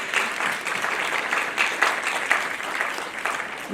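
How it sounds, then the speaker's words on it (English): An audience claps steadily for several seconds, a dense, even applause filling the space without anyone speaking. "So please join me in applauding all those students."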